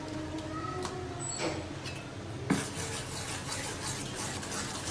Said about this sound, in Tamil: இப்போ எடுத்து வச்சிருக்கிற மாவில் இதை போட்டு நல்லா மிக்ஸ் பண்ணிடலாம்.